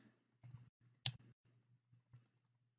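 Soft, sparse computer mouse clicks, a few isolated taps spread over a couple of seconds in a quiet room, with one sharper click standing out.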